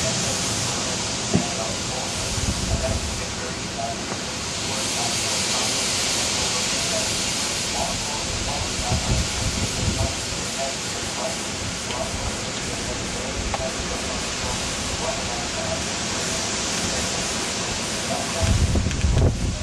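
Wind from a severe thunderstorm gust front in Connecticut roars as a steady, broad hissing rush, with stronger gusts surging now and then and no voices in the clip.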